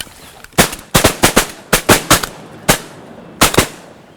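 Shotguns fired during a duck hunt, about nine sharp loud blasts in quick irregular bursts from several guns, some overlapping, with short gaps between.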